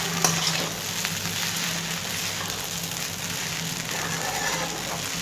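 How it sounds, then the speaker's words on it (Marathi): Sabudana (sago pearls) being stir-fried in a pan gives a steady, close sizzle with soft scraping and stirring sounds, holding even throughout without any talking. "हे अजून साबुदाणा आपण एक पाच ते दहा मिनिट परतून घ्यायचा आहे"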